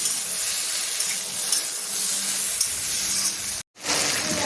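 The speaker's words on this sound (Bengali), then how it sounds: "মশলার দিয়ে একটু ভেজে নেব।" Spices for khichdi and mixed vegetables frying in a pan, a loud steady sizzle and hiss close by that cuts out briefly near the end before resuming.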